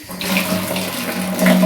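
Tap water runs steadily in a home bathroom, a continuous close splashing hiss that swells slightly louder near the end, with no voices over it.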